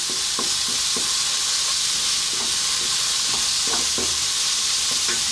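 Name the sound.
stirring ground coriander and garam masala in a hot pan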